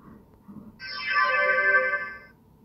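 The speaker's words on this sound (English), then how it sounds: "here we can choose the notification sound since it's unblocked" An Android phone plays a notification sound preview: a single bright, sustained electronic chime with layered tones that swells, holds for about a second and a half, then fades out, heard alone and fairly faint.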